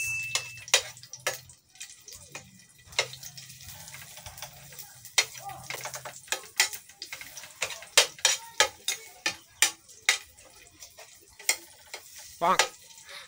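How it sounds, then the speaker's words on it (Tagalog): Garlic sautés in oil in a wok, a light sizzle under repeated sharp clicks and taps of a utensil against the pan, irregular and close, growing busier toward the end. "mag-isa ta og ahos"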